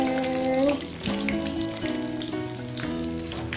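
Snakehead fish fries in oil, a continuous crackling sizzle mixed with tonal clatter and ringing kitchen sounds throughout the short stretch.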